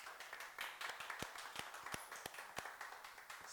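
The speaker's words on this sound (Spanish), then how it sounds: "Le damos un aplauso a los hermanos." A congregation in a church claps for the brothers, a faint, sparse patter of individual hand claps with a few sharper slaps standing out, somewhat distant.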